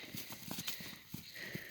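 Horse hooves clip-clop in a quick, uneven patter of several faint thuds over less than two seconds, with a light whinny-like sound.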